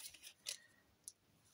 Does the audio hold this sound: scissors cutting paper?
yes